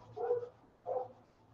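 Dogs out on the street bark twice, muffled, faint and distant, with a low steady hum underneath.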